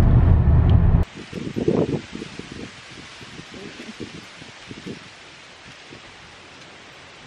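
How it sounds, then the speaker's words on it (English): Wind at a park buffets the microphone with a loud roar for about a second, then gives way to softer gusty rustling and scattered thumps that fade toward the end. "It's a little windy."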